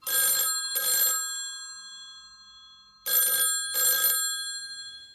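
A telephone rings twice, each ring a pair of bright electronic trills, with a pause of silence between them.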